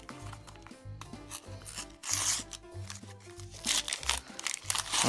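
A LEGO Star Wars sticker packet is rubbed and crinkled in the hands, giving close, uneven rustling and crackling bursts that swell louder toward the end.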